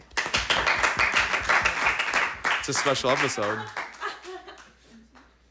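A small group on a podcast claps briefly at the start, crisp close hand claps mixed with laughter, then talk takes over and the clapping dies away.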